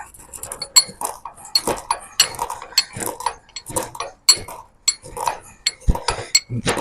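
Mixed peppercorns being coarsely crushed for red fish, heard as a quick run of sharp clinks and crunchy taps, close and fairly loud, repeating irregularly throughout with no voice.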